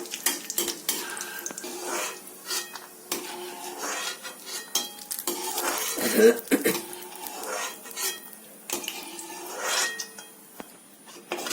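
Carrots frying and being stirred in ghee in a pan, after cashews were fried and removed, for carrot halwa, with clinks and scrapes of a spoon against the pan and a faint sizzle, close and moderately loud without talk.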